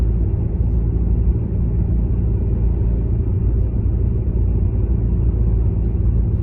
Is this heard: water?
no